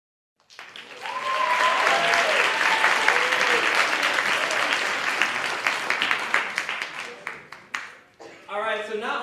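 A youth spoken-word poetry crowd breaks into loud, sustained applause for a poet, with scattered cheers over the clapping. The applause thins out near the end, then a voice speaks briefly.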